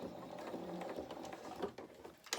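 A sewing machine stitches through felt while sewing the body and limbs of a toy cat, running steadily and close up, with a few brief clicks and a sharp tick near the end.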